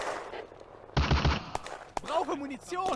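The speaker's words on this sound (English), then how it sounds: "Soviet artillery adjusting in the woods" Soviet artillery booms in a WWII Eastern Front video game, with a heavy burst and sharp cracks amid battlefield clatter, while a voice speaks over the later part.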